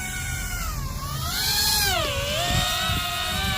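Small motors of an RC hoverbike drone from Amazon spin up for an automatic takeoff in a park, a steady high whine that bends up and down in pitch and grows slightly louder, with no talking.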